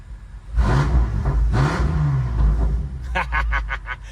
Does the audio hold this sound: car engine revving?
yes